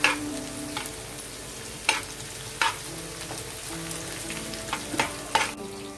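Beans and capsicum for veg Schezwan noodles stir-fry in a pan with a steady close sizzle, broken by repeated scraping and tossing stirs, no voices.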